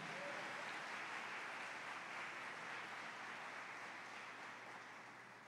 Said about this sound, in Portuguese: Você pode mais uma vez dar um aplauso bem forte ao Senhor?